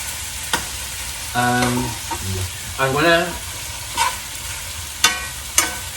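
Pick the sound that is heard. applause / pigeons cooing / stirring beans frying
stirring beans frying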